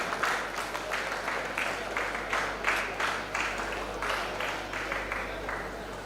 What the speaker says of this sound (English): Please give a huge round of applause to Dr. Pawan Kumar Patil sir.